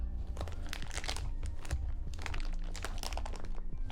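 A tough plastic bag holding PETG 3D-printer filament crinkles and crunches continuously while it is cut open with diagonal cutters, close and fairly loud, with no talking.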